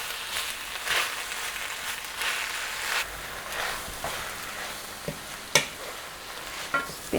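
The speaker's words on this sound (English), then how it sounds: "Now we're gonna add about 8-10 ounces of spinach and saute it with onions." Spinach and onions sautéing in a pan, giving a soft, steady sizzle and rustle. A few louder clinks and scrapes from stirring break through near the end.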